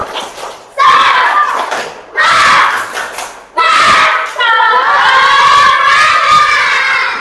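A school class claps together on cue in a rhythmic spirit-clap routine, with loud bursts of clapping and children's chanting voices coming in waves, then a long sustained stretch of group voices and clapping.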